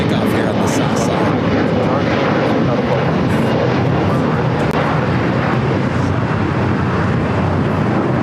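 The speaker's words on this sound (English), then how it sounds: "It's a 787-8. Dreamliner will be your next heavy takeoff here on the south side." An Air Canada Boeing 787-8 Dreamliner, a heavy jet, takes off from the south side at LAX. Its engines give a loud, steady, broadband roar that holds throughout.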